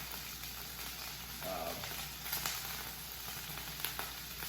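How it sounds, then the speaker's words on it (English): Chicken pieces searing in a hot pan for chicken Wellington, giving a steady low sizzle and crackle that runs throughout at moderate, close level with no talking. "We're just trying to get them sealed and seared"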